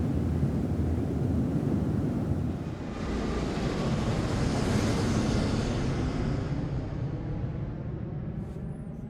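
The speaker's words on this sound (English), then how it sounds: "the sound of the airplane dies away slightly" A steady broadband airplane roar, fairly loud and close at first, thins out and dies away slightly toward the end with no talking.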